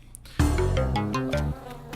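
Buzzing bees in the video game Spelunky, a synthetic, tonal electronic drone that rises and steps through pitches for about a second, fairly close and clear.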